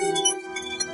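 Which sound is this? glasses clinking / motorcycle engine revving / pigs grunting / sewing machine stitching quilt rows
glasses clinking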